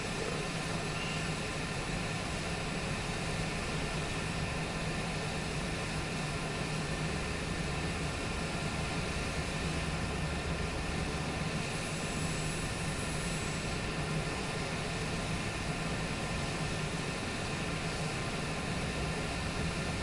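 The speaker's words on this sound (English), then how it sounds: "Another private jet right here." A private jet's engine drones steadily in Microsoft Flight Simulator 2024 on PS5, a constant broadband roar with a faint high whine that holds at even loudness throughout, with no talking.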